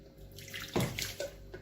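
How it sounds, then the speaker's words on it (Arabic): A cup of warm water poured into dough on the stovetop, a short splashing gush that builds and trickles off, close and clear. "حطينا كوبايه ميه"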